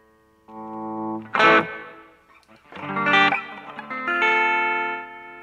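Electric guitar played through heavy effects, sustained chords with harmonic-rich, slightly wavering tones and a few sharper strummed bursts between them.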